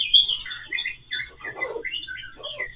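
Birds chirp and tweet just outside a window, a few quick, faint calls in short bursts with gaps between them, heard alone.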